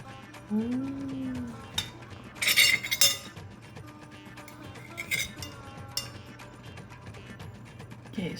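A knife clinks and scrapes against a plate while cutting a no-bake Oreo cheesecake, with several sharp metallic taps and softer scrapes spread through a quiet kitchen.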